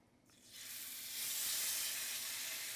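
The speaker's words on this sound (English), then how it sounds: "when you lay your pork chops down in your hot skillet with your hot grease" Coffee- and chili-rubbed pork chops meet hot grease in a skillet, and a loud, bright sizzle swells up after a brief quiet start, then holds as a steady close hiss.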